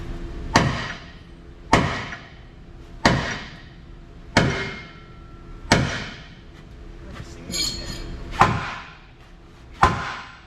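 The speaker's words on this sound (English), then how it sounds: "I'm gonna go ahead and hit it. Sledgehammer." A sledgehammer strikes the ripper on a Caterpillar motor grader: eight loud metallic blows, close up, spaced about every second and a half, each ringing briefly, with faint background noise between.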